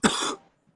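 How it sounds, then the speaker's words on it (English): A single short, harsh cough, close and fairly quiet, followed by silence. "I'm coughing too much"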